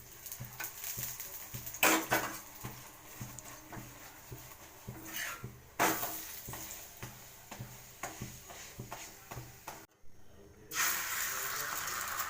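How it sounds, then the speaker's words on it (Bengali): Paratha frying in a pan with ghee and oil gives a steady, faint sizzle and hiss with occasional scraping and turning noises, close by in a home kitchen. "এইভাবে সব কটা ভেজে নেব।"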